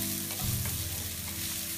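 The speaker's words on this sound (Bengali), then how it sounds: "আমার তেলটা গরম হয়ে গেছে, আমি এখন পেঁয়াজ কুচিগুলো দিয়ে দিই।" Chopped onions hit about one and a half tablespoons of hot oil in a frying pan, bursting into a loud, close, continuous sizzle.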